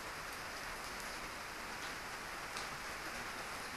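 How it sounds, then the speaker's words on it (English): Steady rain falls in a dense even hiss of drops on surfaces, quiet and continuous with no voices over it. "Rain, I think first time for 2 months."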